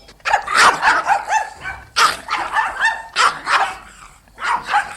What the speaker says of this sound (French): Des Pékinois qui aboient.